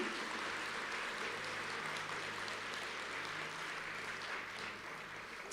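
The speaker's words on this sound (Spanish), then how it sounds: "denle ese fuerte aplauso al Señor" A church congregation claps for the Lord during a service, steady dense applause that sounds somewhat distant and even, holding for several seconds without fading.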